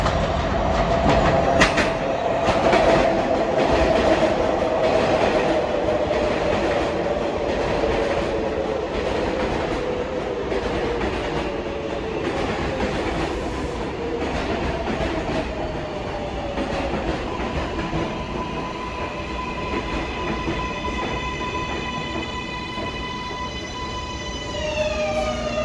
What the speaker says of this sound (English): There is a local 7 train to Metz Willets Point.